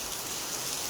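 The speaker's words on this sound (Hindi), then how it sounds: "इसलिए आज सुबह सुबह से बारिश हो रही है हमारे यहाँ" Steady rain falling in a village, a dense even hiss of drops on surfaces, soft and continuous throughout the brief moment with no voices.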